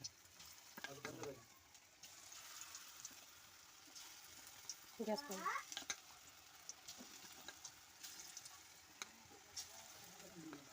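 Cauliflower fritters dropped into hot oil sizzle and crackle steadily, with bursts of louder spitting around the middle as more batter goes in, close and fairly quiet.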